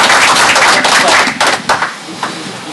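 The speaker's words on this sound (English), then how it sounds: "Let's have a round of applause." An audience at a town council meeting applauding in a brief burst of dense clapping that thins and fades within a few seconds.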